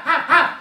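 A person's voice imitates a dog barking, giving two quick, loud, close yapping barks.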